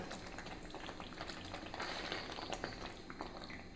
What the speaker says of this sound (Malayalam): ഇനി ഇതിൻ്റെ മുകളിലേക്ക് ഒരൽപ്പം എണ്ണ നല്ലെണ്ണ ചൂടാക്കി അരച്ച് വെച്ചതാണ് ഒന്ന് ചേർത്ത് കൊടുക്കാം